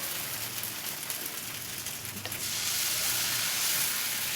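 Dosa batter sizzles on a hot pan in a home kitchen, a steady hissing crackle like light rain that swells louder toward the end, with no voices.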